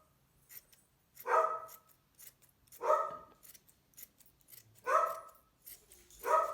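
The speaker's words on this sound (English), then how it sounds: "you know the barking dog" A dog barks four times at a steady, spaced pace, each bark a clear, sharp burst with light clicks and snips in the quiet gaps between them.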